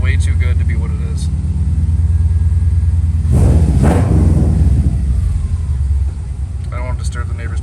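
A Subaru Impreza GC8 engine with a full Megan Racing exhaust and custom headers rumbles steadily with a deep exhaust note, swelling briefly in a louder rev midway before settling back to idle.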